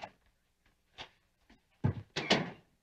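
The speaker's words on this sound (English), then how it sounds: "Close the door." An office door closing in a TV drama scene, a few soft footsteps and movements followed by a firm double thunk as the door shuts, close and clear.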